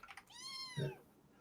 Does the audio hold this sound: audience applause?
no